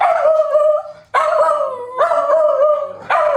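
A hound dog gives a run of four long, loud, close howls, each rising and sustained with a brief break between them, recorded alone with no talking.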